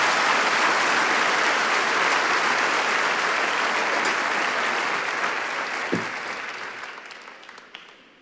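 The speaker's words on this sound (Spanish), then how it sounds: "¿Cuánto le dan un aplauso fuerte al Señor?" A congregation in church applauds loudly, a sustained dense roar of clapping that holds steady and then gradually fades away toward the end.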